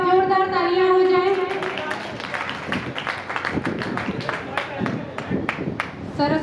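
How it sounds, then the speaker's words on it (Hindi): An audience claps in a burst of applause for the host at a Hindi poetry recital (kavi sammelan) in Delhi; after a brief voiced opening, the clapping builds into a dense, steady patter that carries through to the end. "तो संचालक महोदय जी के लिए एक बार जोरदार तालियां हो जाएं।"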